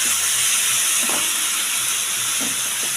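Boal fish curry sizzling in a pan as a little water is added, with a steady broadband hiss of steam and frying and a few faint spits throughout, no voices.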